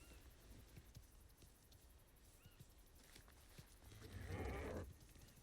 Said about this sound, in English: Oh, look at that poor ox cow tossing